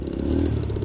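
A motorcycle engine on a mountain trail, heard as a brief, close, throbbing rev with a rough, pulsing rumble.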